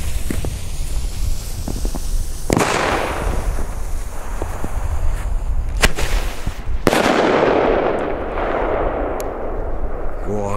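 Several sharp, loud bangs from a New Year's Eve firework battery ring out, each with a rumbling tail, the last one biggest and echoing away.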